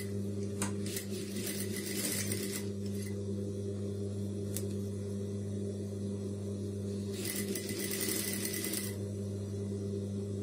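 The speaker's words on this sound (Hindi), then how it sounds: "वही शेप पे इसको स्टिचिंग लगाते जानी है" A sewing machine stitches a high-neck blouse along a marked shape in two quiet bursts of whirring, over a steady low hum with a few light clicks.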